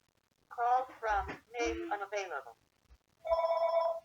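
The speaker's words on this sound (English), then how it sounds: "there's a phone interrupt." A telephone rings with a steady electronic trill near the end, after a stretch of harmonic, voice-like tones; the ring is clear and fairly close.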